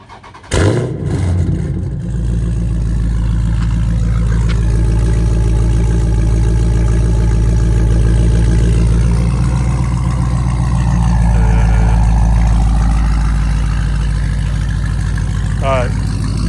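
A Jeep SRT with its muffler deleted starts and settles into a loud, deep rumbling idle, then revs with rising throttle blips near the end, all heard close up and steady throughout.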